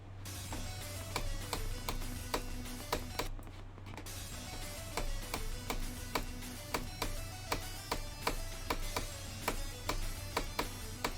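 Repeated sharp knocks of a chair arm against a desk, close and fairly regular, over a steady low hum.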